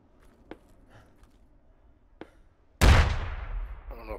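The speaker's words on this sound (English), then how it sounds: "Coming, I hear their fire." Gunfire in the tactical shooter game Squad: a couple of faint distant shots, then a sudden loud close burst that rings out and decays over about a second.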